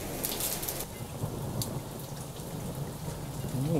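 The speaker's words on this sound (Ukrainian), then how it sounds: "гроза з невеличким градом промчалася" Heavy thunderstorm with small hail pelting down in a garden, a steady dense roar of rain and hailstones with a brief crackle of thunder, no voices.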